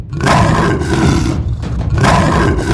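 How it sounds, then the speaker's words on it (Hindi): A cartoon big cat lets out two loud, close roars separated by a short pause, with nothing else heard. "तभी वहाँ शेरा का दहाड़ने की आवाज आती है और सब डर जाते हैं।"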